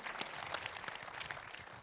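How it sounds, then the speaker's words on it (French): Audience applauding at the Royan film festival, steady crowd clapping filling the whole stretch at moderate level, dense and continuous with no pauses. "On peut vraiment l'applaudir."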